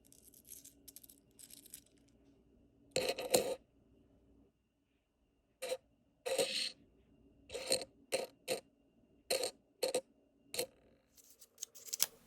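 Customer hand-rolled quarters are handled and poured in a coin hunt, bursts of metallic clinking and scraping in irregular clusters separated by short quiet gaps, close and without any talking.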